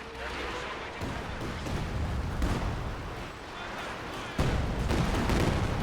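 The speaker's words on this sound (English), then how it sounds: "with a nice caddy barrage already" Continuous rumbling artillery barrage from a World War II strategy game, heavy overlapping booms rolling together with sharper impacts at about one second and four seconds, loud and sustained throughout.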